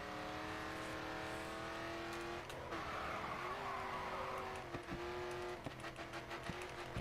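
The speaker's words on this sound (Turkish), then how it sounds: "Burada full drift takacağız." A car drifts through corners in the racing video game Grid, its engine holding a steady high whine while the tires skid and squeal, with sharp gear-shift dips and bumps near the end.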